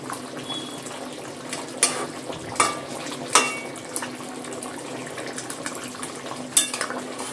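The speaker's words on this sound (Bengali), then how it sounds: "ভালো করে মিশিয়ে নেবো, লেবুর রস ভাজা মশলা দিয়ে মিশিয়ে নিয়ে একটু ফুটিয়ে নেব।" A spoon scrapes and clinks in a pot while chicken curry is stirred with lemon juice and roasted spices, giving scattered sharp metallic taps over a low, steady kitchen hiss.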